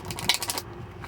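A deck of tarot cards is shuffled by hand, producing a quick burst of crisp riffling flicks that lasts about half a second before falling quiet.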